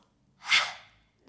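A single slow exhale during a yoga breathing exercise, a soft airy breath that swells and fades over about half a second, close and alone.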